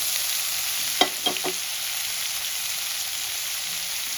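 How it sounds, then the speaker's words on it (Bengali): Chopped onion frying in oil for dhaba-style pav bhaji masala gives a steady broad sizzle, with a few brief utensil scrapes or stirs near the start and no talking. "পেঁয়াজটাকেও আমি লাল করে ভেজে নেব"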